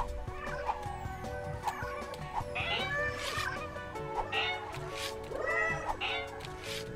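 Cartoon cats meow repeatedly in the video game Slinki, several short rising calls scattered over steady game music and effects, moderately loud and mixed with other playful animal-like cries.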